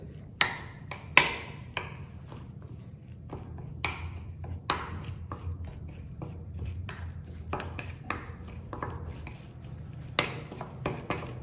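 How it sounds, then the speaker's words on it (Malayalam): A marinade with sunflower oil is stirred in a bowl, giving soft irregular clinks and taps of a utensil against the dish, fairly close and quiet, with no voice heard. "എന്നിട്ട് എന്നിട്ട് നന്നായിട്ട് മിക്സ് ചെയ്യാം."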